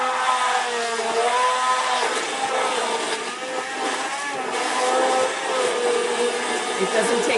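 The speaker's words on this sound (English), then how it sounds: "So I'm just going to blend that up." Blender whirring through cold milk and cream cheese, a loud steady motor drone lasting several seconds with slight shifts in pitch and load, and a voice talking over it.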